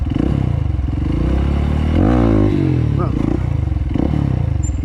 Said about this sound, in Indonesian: kita langsung buka gas dan kupling. Hasilnya akan seperti ini.